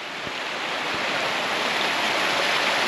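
A stream flows under a small bridge at a trail water crossing near Horseshoe Lake in the Mammoth Lakes Basin, a steady close rushing wash of water throughout.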